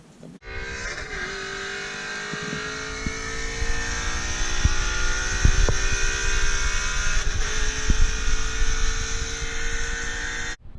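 A car pulls hard from 60 to 130 km/h in third gear, its engine roaring and rising steadily in pitch for about ten seconds, loud and close with a few sharp knocks, then cutting off abruptly.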